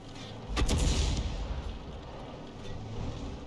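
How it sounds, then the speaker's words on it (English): A single heavy tank-gun shot booms in a video-game tank battle, firing blind at a KV tank, followed by a long rumbling decay under steady engine noise. "Fires a blind shot at the"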